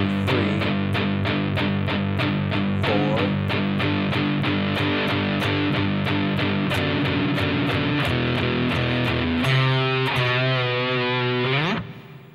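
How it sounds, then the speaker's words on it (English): Loud distorted electric guitar plays rhythmic chords in a steady pulse, ending with a bending, wavering note that cuts off. "here's what we've done so far for the distorted guitar"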